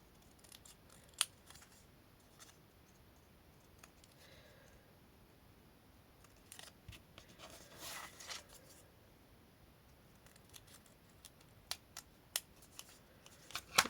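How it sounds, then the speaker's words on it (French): Scissors snip through printed paper at a scrapbooking table, a series of sparse, close, crisp cuts with quiet rustling in between and no talking. "Je vais découper là."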